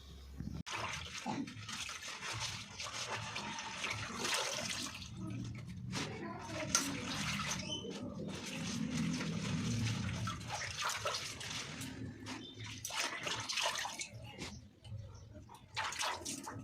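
Tap water running and splashing while leafy saag greens are rinsed by hand, an uneven gushing flow with bursts of handling and sloshing, close and continuous, with a voice talking intermittently.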